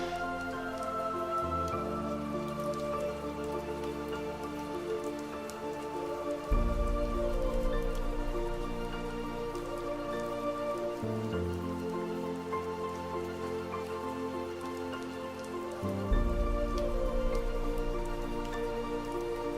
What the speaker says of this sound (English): The rain is something I added, by the way.